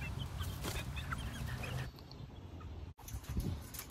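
Quail and hens in a coop, a feeder setup with five females and three males, give soft scattered clucks and chirps over a busy farmyard background for a few seconds.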